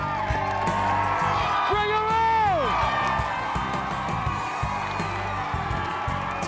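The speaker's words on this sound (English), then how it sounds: "To be out there with a crowd cheering" Large community crowd outdoors cheering and whooping, with children shouting among them, welcoming a rebuilt home after Hurricane Wilma in Florida; loud, continuous and sustained, with a rising whistle-like shout and a voice calling out over the din.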